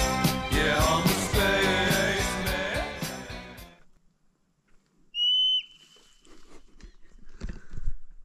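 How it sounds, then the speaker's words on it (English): A single high, shrill whistle-like scream of a marmot on a mountain trail along the Pacific Crest Trail, about half a second long, heard after loud music cuts out, with footsteps and light rustling around it. "That is the sound of a marmot screaming."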